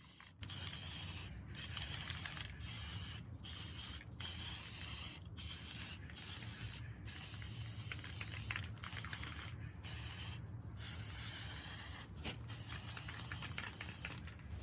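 Spray paint hisses onto the bottoms of thrifted glass vases for a second coat, in repeated bursts of a second or two broken by brief clicks and gaps.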